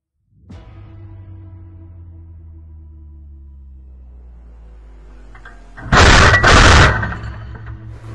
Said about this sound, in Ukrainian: наводимося і ведемо вогонь